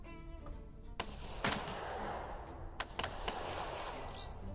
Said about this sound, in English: Now we get some return fire.